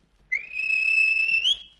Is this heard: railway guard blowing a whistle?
yes